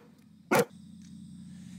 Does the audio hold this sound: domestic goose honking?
no